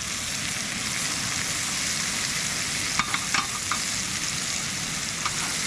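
Fish fries in butter in a pan with a steady, close sizzle throughout, broken by a few sharp pops and crackles near the end; no talking.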